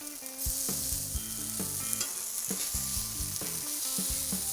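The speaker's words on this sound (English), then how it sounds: "Can you hear that sizzle?" Steady frying sizzle from vegan sausages in a pan, crackling close and continuous, with occasional soft knocks of a utensil stirring.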